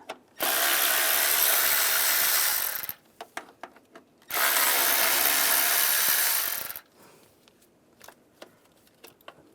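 A 10mm socket on a ratchet spins out bracket bolts on a 2011-2018 RAM 1500 with the 3.6L V6: two sustained bursts of rapid clicking, each about two and a half seconds, with scattered light taps between and after.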